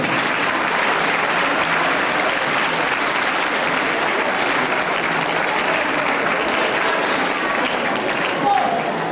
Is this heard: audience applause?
yes